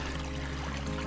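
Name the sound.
water from a little stream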